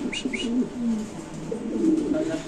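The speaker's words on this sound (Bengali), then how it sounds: "এখানে আছে একটা সিরাজি কবুতর, মানে লাহোরি, আপনি দেখতেই পাচ্ছেন অনেক বড় সাইজের কবুতর" A large Sirazi (Lahori) pigeon coos close by in low, throaty rolling calls, with a few faint chirps from other birds behind it.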